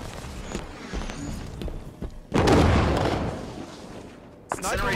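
Incineration cannon blasts in a Halo Big Team Capture the Flag match on the Basin map: scattered thumps, then a heavy booming burst midway and another sharp blast near the end, with a player talking over the gameplay.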